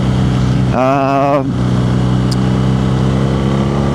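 Engine of a BMW R nineT Scrambler motorcycle, a boxer twin, blipped in one short rev that rises and falls over a steady idle, heard close.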